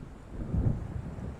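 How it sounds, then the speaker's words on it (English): Low thunder rumbles from an approaching storm beside a lake in the video game Alan Wake, swelling briefly and fading under a steady wash of wind and ambient noise. "It seems there's a storm coming."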